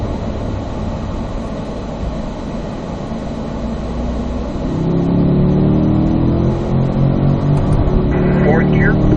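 A Corvette on a track at a driving school pulls hard in third gear, a loud, droning engine and road roar that rises in pitch and volume midway as it accelerates, with a voice briefly audible over it.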